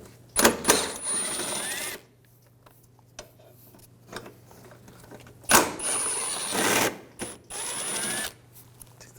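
A ratchet and T30 socket loosen bolts on the front of a 2011-2018 Volkswagen Jetta during impact absorber replacement, giving quick bursts of clicking between quiet pauses, fairly close.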